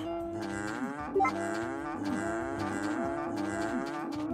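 Cows in the farming video game Story of Seasons: A Wonderful Life moo in long, drawn-out repeated calls that overlap in a steady, loud chorus, with one brief sharper sound near the start.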